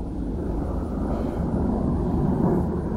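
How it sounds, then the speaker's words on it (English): A fixed-wing airplane passes overhead outdoors, a steady broad engine roar that stays loud and continuous throughout without any voices. "is that an airplane?"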